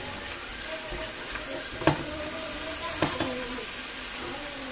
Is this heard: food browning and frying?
yes